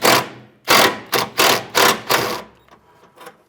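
A 10mm nut coming off a fuel tank strap stud on a 2013-2020 Nissan Pathfinder gives a run of rapid, loud ratcheting bursts, about six close together, then fading to lighter clicks.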